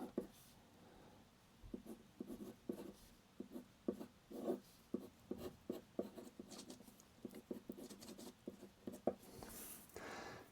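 A fountain pen scratches and glides across cheap Daiso notebook paper in short, quiet strokes close by, with brief pauses between bursts of writing.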